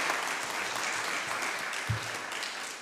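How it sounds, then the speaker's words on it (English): Steady applause from a crowd at a book launch evening, fairly quiet and distant, with one brief low thump partway through. "Let's give Tim a big round of applause"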